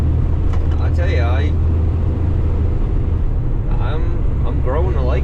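A Kenworth T880 truck with a Paccar MX-13 engine, hauling heavy at 1500 RPM on hilly roads, gives a deep, steady rumbling drone while someone talks over it.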